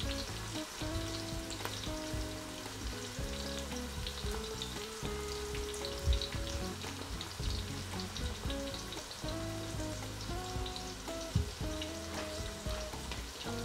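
Onions sizzle in about 210 ml of oil for a home-cooked Indian/Pakistani chicken curry, a steady close crackle and hiss with occasional stirring knocks, no talking.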